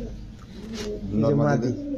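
Low, throaty pigeon coos rise and fall close by, blending with a murmuring background; the cooing swells louder in the second half.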